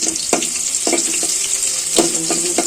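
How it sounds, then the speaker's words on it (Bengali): Sliced onions dropped into very hot oil, giving a steady close hiss of frying with a few brief clinks of a spatula against the pan, no talk. "তেলটা অনেক গরম হয়ে গেছে, পেঁয়াজটা দিয়ে দিলাম।"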